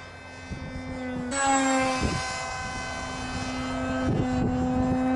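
A Guppy Remix RC plane, flown in a speed test, passes with a whining electric-motor drone that rises sharply in pitch and then holds steady, with faint thumps and background noise.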